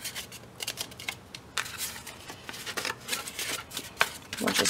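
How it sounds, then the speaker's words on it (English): Vintage book cover paper being folded and handled: crisp crinkling and rustling with sharp creasing snaps in irregular bursts, close and moderately loud, with no clear talking. "We'll just fold them as we go."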